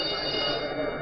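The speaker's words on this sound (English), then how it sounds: "Pat, That's the alarm bell." A ship's alarm bell rings as a steady, continuous bright clang that fills the short moment, loud and unbroken.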